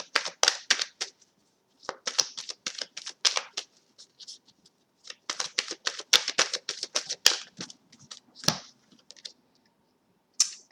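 Tarot cards shuffled by hand in bursts of crisp, rapid riffling and flicking, with short pauses between rounds and a soft tap near the end; close and clear, no talking.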